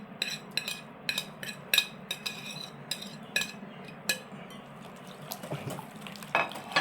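Ginger and garlic paste with crushed green chillies are stirred into yogurt in a bowl, a quiet run of soft squelches broken by repeated sharp spoon clinks and taps against the side.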